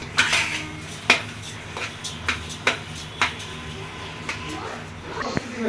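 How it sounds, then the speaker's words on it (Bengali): Beef being mixed in a pot for tehari, with a metal spoon striking and scraping the pot in a steady series of clanks, close by, over faint background noise. "এখন মাংসটা মিলানো হচ্ছে"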